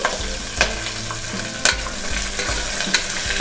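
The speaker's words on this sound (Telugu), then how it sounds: "పచ్చిమిర్చి కూడా వేసుకున్న తర్వాత 1 నిమిషం పాటు వేగనించుకుని" Green chilies fry in a pan with a steady sizzle, broken by a few sharp scrapes and clatters of stirring spaced through the short stretch; nearby and moderately loud, with no talking.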